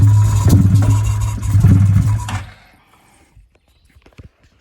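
A new Can-Am Outlander ATV engine fires on starter fluid in the woods, runs roughly and loudly for about two seconds, then conks out, leaving near silence with a few faint handling noises.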